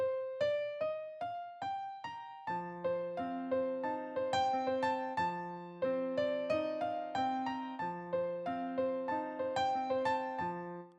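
Bright classical-style piano: a repeating, metronomic figure of crisp single notes that rises, then fuller patterns with bass notes, steady and loud throughout with no voices.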